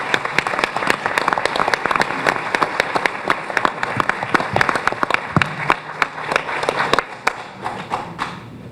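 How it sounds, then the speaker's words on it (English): An audience at a White Plains Board of Education meeting claps for employees with 25 years of service, giving dense, lively applause with sharp individual claps that thins out toward the end. "Please join me in a round of applause for all those."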